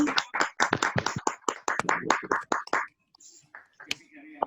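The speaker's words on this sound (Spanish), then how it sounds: "Ese aplauso." Clapping from a small group, irregular and close, with bursts of applause fading into quieter scattered claps and faint movement.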